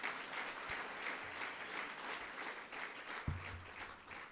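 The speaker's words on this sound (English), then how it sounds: "Shall we have another round of applause?" Audience applause at a school leaders' induction ceremony after a choir performance, dense steady clapping from a crowd in a hall, continuous throughout.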